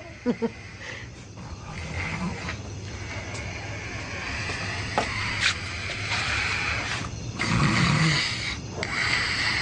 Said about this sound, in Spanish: ¿Y quién no le va a tener miedo con esos ronquidotes?